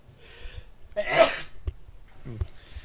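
One person sneezes once close to a microphone during an online call, a sudden breathy explosive burst preceded by a soft inhale, with faint vocal sounds afterward.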